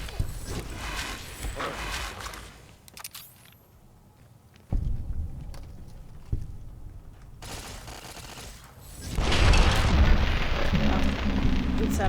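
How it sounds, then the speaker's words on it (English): A big explosion in Fallout: New Vegas during the Old World Blues add-on. A sharp blast cuts through rumbling game noise, and later a loud, dense roar of debris and fire swells and holds to the end. "It's a big explosion."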